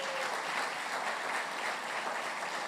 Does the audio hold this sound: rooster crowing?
no